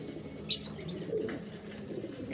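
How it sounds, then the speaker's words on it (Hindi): A single soft, low pigeon coo close by, brief and muffled, with a faint rustle or flutter before it. "ये देखें, ये कबूतर है, भंवरा चांदना कहलाता है ये।"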